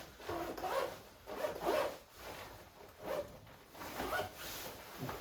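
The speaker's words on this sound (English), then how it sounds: "so we're zipped up here" The zipper on a Burton Treeline 3L GORE-TEX jacket is pulled several times in short rasping strokes, close and moderately loud, with quiet gaps between each pull.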